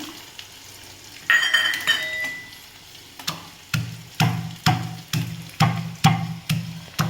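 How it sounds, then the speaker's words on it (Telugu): Garlic pounded coarsely for a traditional Telugu recipe lands as about eight steady, dull thuds in the second half, close and fairly loud, after a brief clatter and a short ringing tone near the start. "మరీ మెత్తగా కాకుండా కొంచెం కచ్చబిచ్చగా దంచుకుంటే సరిపోతుందండి"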